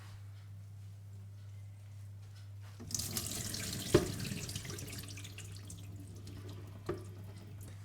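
Water is poured out of a tray in a kitchen while making keto fried chicken skin, a sudden splashing rush that starts partway through over a low hum and then settles into a quieter trickle.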